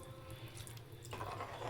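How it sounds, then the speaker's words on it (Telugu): Water is poured into a pot of rice being cooked into prawn pulao, making a quiet steady trickle that swells into a fuller splashing gush partway through. "మేము కొంచెం మెత్తగా తింటాం కాబట్టి నేను కొంచెం వాటర్ ఎక్కువ పోసుకున్నాం."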